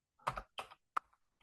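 A few quick bursts of computer keyboard typing, three clustered keystroke groups followed by faint scattered clicks, close and clear with no talking.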